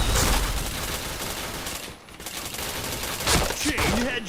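Dense rapid gunshots from the online shooter game Point Blank, a loud continuous volley with a brief dip and sharper cracks near the end.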